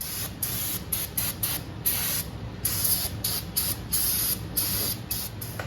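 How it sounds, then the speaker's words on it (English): Brake cleaner sprays from an aerosol can during work on a 1941 Willys MB, coming as about a dozen sharp, close hissing bursts of varying length separated by short pauses. "If you're gonna spray a lot of brake clean, don't want it dripping on your floor"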